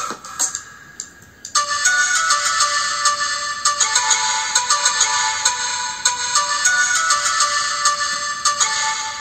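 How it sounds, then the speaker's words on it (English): A bright tropical house chime melody built in FL Studio as a flip of a well-known song. A short quiet intro gives way to a loud, sustained, shimmering chime line with rhythmic plucked accents, and no voices are heard. "This is my melody of tropical chime."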